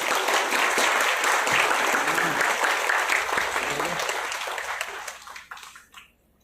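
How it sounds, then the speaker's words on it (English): A large audience applauds at a moot court competition ceremony, a dense, loud burst of clapping that holds steady and then tapers off and dies away over the last second. "A huge round of applause, please."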